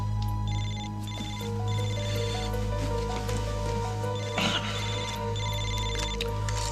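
A telephone rings in a repeated electronic ringtone pattern, clearly audible over a steady low hum and background music in a television drama scene.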